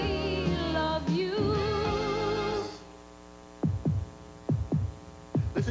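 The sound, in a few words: heartbeat sound effect in a car commercial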